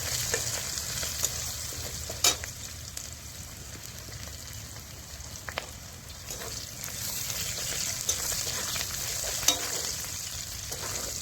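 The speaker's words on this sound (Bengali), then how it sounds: "হালকা লাল লাল করে ভেজে নেব।" Onions fry in a pan, making a steady close sizzle with scattered sharp crackles and light clicks as they are stirred.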